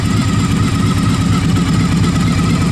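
A Victory 92 cubic inch motorcycle engine with about 21,000 miles idles close by, giving a loud, steady, throbbing rumble with an even pulse throughout and no other sounds.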